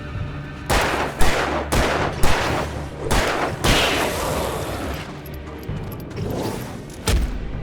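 Repeated gunshots in Alan Wake Remastered, a run of loud, broadband cracks and bursts over about seven seconds, some clustered in quick succession, with no talking.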